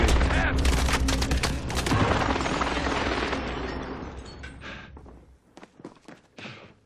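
Dense gunfire rattles in a Call of Duty: Warzone match, with loud sustained bursts and overlapping shots that thin out into scattered sharp cracks toward the end, and voices come through faintly underneath.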